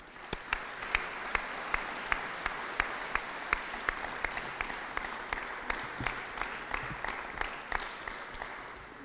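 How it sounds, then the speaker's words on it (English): Steady audience applause at an Ada Borup West Hall of Fame induction ceremony, a dense wash of many hands with sharper individual claps popping through, moderately loud and sustained for the whole stretch with no talking. "Give him a big round of applause before I leave."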